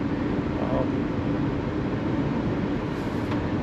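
A 2021 Nissan Murano mid-size SUV engine revs near 4,500 RPM while driving twisty roads, a steady, dense low drone with road and wind noise from inside the cabin.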